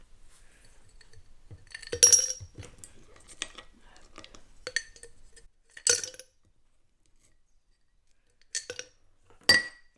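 Small cat-paw-shaped ice cubes clink against each other and a little bowl in several bright, separate taps and rattles, close and crisp, with quiet pauses between bursts.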